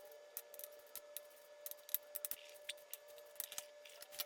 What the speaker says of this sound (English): now I'm cutting up the pickles